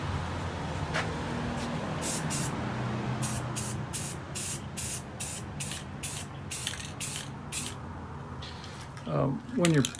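An aerosol can of Oleum 2X Canyon Black spray paint hisses in a run of short, sharp bursts, about a dozen quick sprays close by over a low background hum.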